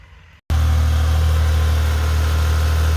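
A 1991 Geo Metro's engine cranks and catches after a brief quiet moment, then settles into a loud, steady idle with a deep, even hum close by.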